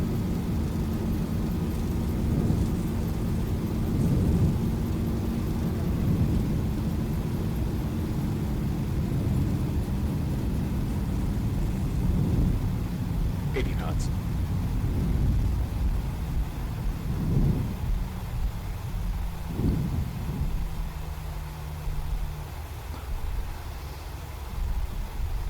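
Zibo Boeing 737-800 in X-Plane rolling out after landing at Salt Lake City, with a steady loud roar of thrust reversers and engines that holds throughout, then gradually eases with a few bumps and thuds near the end.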